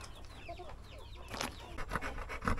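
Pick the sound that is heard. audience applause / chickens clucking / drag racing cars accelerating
chickens clucking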